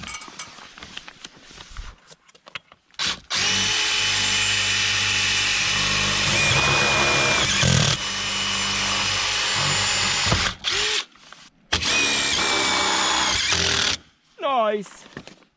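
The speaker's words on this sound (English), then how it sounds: "I done broke the drill bit." A power drill whirs loudly in long sustained bursts, pitch shifting as it bites, with short pauses between runs and brief talk at the start; the drill bit breaks.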